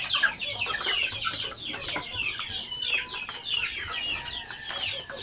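Native chickens cluck busily in a flock, many overlapping close clucks and squawks continuing throughout at moderate volume, with no talk.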